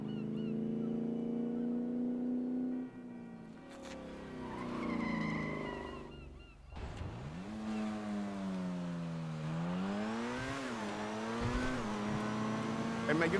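Engine of a Progen Itali GTB supercar in GTA 5, droning loud and steady, rising and falling in pitch as it revs and shifts, with a tire screech midway and some speech mixed in.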